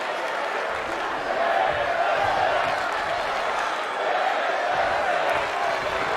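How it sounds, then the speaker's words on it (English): A wrestling video game crowd produces a steady roar with swelling, rhythmic chant-like waves, heard from a distance as a dense wash of voices rising and falling twice. "I don't know what the crowd are chanting there, JR."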